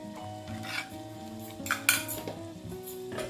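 Wet gravy masala being added to simmering country chicken curry in a pot, with close spoon clinks and scraping against the metal pot and soft bubbling beneath, no talking.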